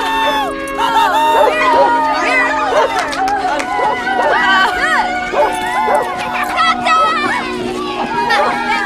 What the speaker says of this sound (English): You touched that dog, McBride.